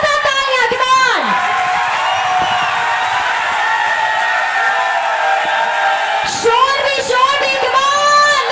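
Large audience at an AWPL event cheering loudly for an honoree, a sustained roar of crowd noise with yells and whoops that swells and holds for several seconds, with a voice calling out over it at the start and end.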